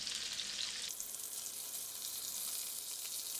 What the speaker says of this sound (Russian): но так как я в духовку не буду отправлять эти котлеты, надо жарить еще.